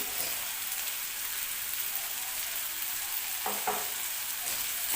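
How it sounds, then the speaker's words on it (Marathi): Tomato sautéing with a coconut and garlic mixture in a pan, a soft steady sizzle broken by a few short scraping stirs, no talk. "छान परतून घेऊया"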